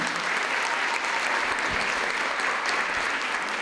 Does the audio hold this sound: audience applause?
yes